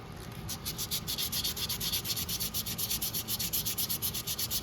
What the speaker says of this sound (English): So now we sand with the grain